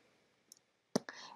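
A mouse click on a preview button during a Wix website design session, heard as a sharp, close click in a quiet room, followed by a faint softer tap.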